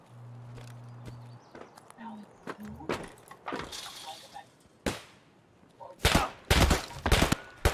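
Gunfire in the video game Escape from Tarkov, a squad fight on patch .10.1: loud bursts of shots, single and rapid, from about 3 to 8 seconds, with footsteps and voices in the game, denser near the end.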